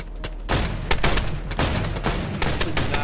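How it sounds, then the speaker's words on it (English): Rapid rifle fire in DayZ, a dense string of sharp, loud shots dumping a whole magazine in quick irregular succession for three seconds, close and without talk. "I shot an entire mag on him."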